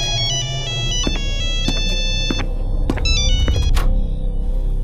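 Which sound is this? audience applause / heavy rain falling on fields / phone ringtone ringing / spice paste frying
phone ringtone ringing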